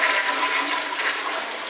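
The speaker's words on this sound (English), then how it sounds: "The flushing is good." A hotel toilet flushes in a steady, loud rush of water close by, filling the short span without pause or voices.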